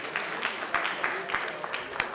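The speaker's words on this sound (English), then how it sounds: "Please let's give our speakers so far a round of applause." An audience at a Ghana Institution of Engineering manifesto forum applauds its speakers, a moderate stretch of steady clapping with light crowd murmur mixed in.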